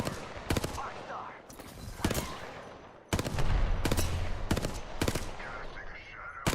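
Gunfire in Apex Legends, several sharp bursts of rapid shots spaced across the stretch, punchy and loud over a low game background rumble.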